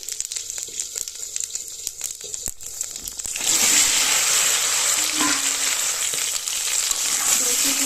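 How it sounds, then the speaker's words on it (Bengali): Dried red chillies and whole cumin seeds hit hot oil in a wok, giving a steady close hiss that jumps to a louder, dense sizzle partway through. "আমি শুকনো লঙ্কা দিয়ে ফোড়নের জন্য দিয়েছি আর একটু দিয়ে দেবো জিরে গোটা জিরে"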